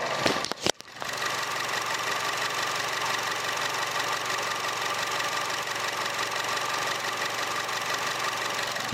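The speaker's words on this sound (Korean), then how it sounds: "엔진 소음도 한번 들어보시도록 할게요" A 2015 Chevrolet Cruze 1.4 turbo engine idles close by with a steady, even hum and light mechanical ticking, after a brief clunk at the start.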